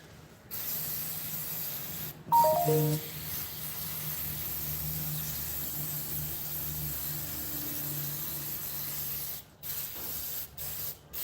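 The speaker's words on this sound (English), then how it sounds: "Give this another spray." A single long hiss of an aerosol can spraying onto a motorbike in a shed, steady and close, with a brief clatter near the start and quiet pauses at the end.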